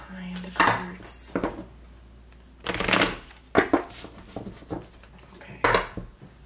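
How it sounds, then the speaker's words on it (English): A deck of tarot cards is cut and shuffled by hand, giving several short bursts of papery riffling and soft card slaps spaced across a few seconds, close and fairly quiet. "I'm gonna cut one more time the cards."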